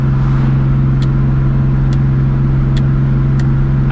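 A 2004 Ford Mustang GT V8 cruises on a night drive, its low engine drone steady and loud from inside the cabin, with a few faint ticks recurring at regular intervals.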